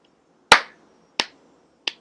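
A lecturer gives three single hand claps in a quiet room. Each is sharp and isolated, spaced about two-thirds of a second apart, and each is softer than the one before.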